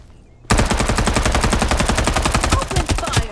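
Rapid automatic gunfire in the Farlight 84 battle game, a loud sustained burst of closely spaced shots that kicks in after a brief quiet lead-in and rattles on without pause.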